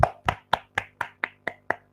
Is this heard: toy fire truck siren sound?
no